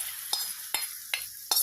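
Hot tempering with a pinch of asafoetida sizzles as it is stirred into vakkaya (karonda) pickle, with four sharp scraping stir strokes over a steady close frying hiss and no talk.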